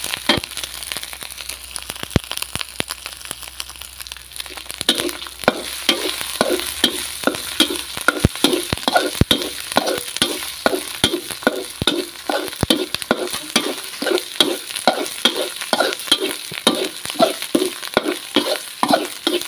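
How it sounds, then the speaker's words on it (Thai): Brisk, rhythmic scraping and sizzling of curry paste stir-fried in a hot pan before frog meat is added, a dense series of regular strokes close up, starting after a few quiet seconds. "ผัดพริกแกงให้หอมเลยนะคะ"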